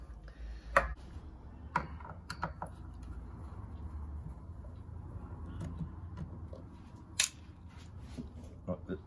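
Screws being taken out of a Fender Stratocaster pickguard, with scattered small metallic clicks and ticks from a screwdriver, a few sharper taps, under low room noise and faint voice.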